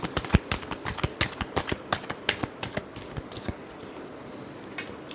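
Tarot cards are shuffled by hand in a quick run of crisp riffling slaps and flutters, close and dense for several seconds before thinning out, with no talking.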